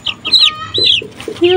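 A brightly colored chicken clucks in quick, close, loud bursts, a rapid run of short chirpy calls with brief gaps, alone without talk.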